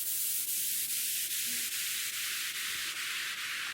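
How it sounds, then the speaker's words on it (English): A hard trance sweep riser: a dense, loud wash of filtered noise that climbs steadily upward, pulsing faintly about twice a second and brightening toward the end, with no voices. "these are sweeps, are basically what I call things that just go up rises"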